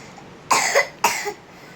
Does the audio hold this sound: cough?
yes